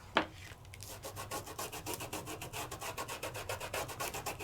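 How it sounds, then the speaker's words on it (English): A die-cut paper piece is burnished with rapid, even rubbing strokes that scrape close and clear after a sharp initial tap, in a steady rhythm with no voices. "let's give it a little bit of a burnish."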